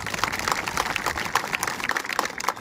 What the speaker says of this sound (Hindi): तो साहब लोग के लिए एक बार ताली हो जाए।